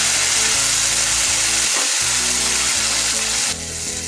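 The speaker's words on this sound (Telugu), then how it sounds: "ఈ ఆనియన్స్ గోల్డెన్ బ్రౌన్ కలర్ వచ్చిన తర్వాత పచ్చిమిర్చి టమాటా 2 వేసేసుకోవాలండి. ఇవి కూడా ఫ్రై చేసుకోవాలి." Green chilies and tomatoes frying with golden brown onions in a pan for a brinjal and prawn shell curry, a loud dense continuous sizzle throughout, easing slightly near the end.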